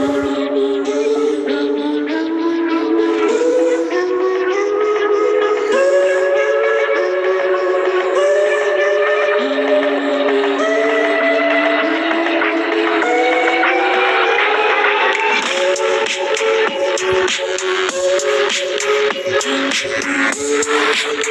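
A new Minecraft music disc plays a loud, steady melodic tune with sustained tones and shifting notes, running alone for the whole stretch.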